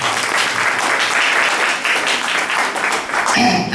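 An audience breaks into continuous, dense applause at a DXN health care gathering, loud and sustained for several seconds before tapering off at the end.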